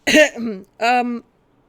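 A short, awkward cough or throat-clear in two voiced bursts, close and fairly loud, followed by quiet.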